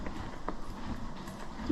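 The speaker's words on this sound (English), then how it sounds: "you're just a very big horse" A big horse's hooves clip-clop at a walk during a ride, a soft uneven rhythm of hoof falls in the background under steady outdoor noise.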